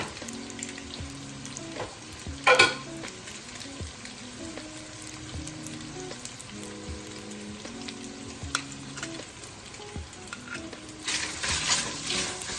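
Butter and garlic sizzle gently in a pan with the heat turned off, crackling with occasional stirring clinks and a brief louder scrape, while faint music plays softly underneath.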